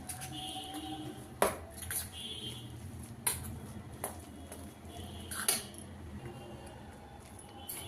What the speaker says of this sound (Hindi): अब यहाँ पे सारी चीज़ों को हम अच्छे से मिक्स कर लेते हैं